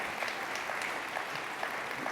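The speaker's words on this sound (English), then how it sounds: "let's have a round of applause" Audience applause at a business conference forum, a steady, moderately faint wash of many hands clapping with no talk over it.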